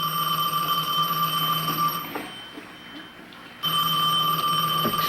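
A telephone rings in a hospital ward as a loud, continuous electronic bell that stops partway through, leaves a quieter gap, then starts ringing again.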